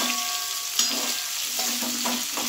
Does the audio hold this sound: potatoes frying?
yes